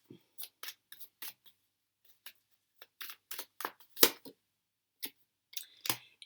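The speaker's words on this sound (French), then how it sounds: "Je rebats parce que j'étais pas très satisfaite de la coupe." Tarot cards being shuffled give a quick series of crisp, close snapping riffles in short uneven bursts, with quiet gaps between them and no talk.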